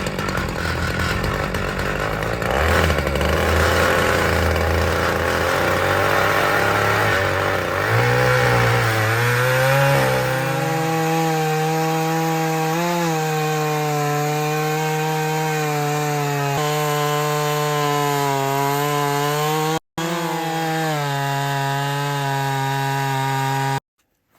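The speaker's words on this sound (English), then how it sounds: "now I got the chainsaw adjusted, so we cut the second straight" A chainsaw cuts through a log at a remote Alaskan cabin, running loud and steady, with the engine pitch dropping and settling into a strained drone as the chain bites into the wood.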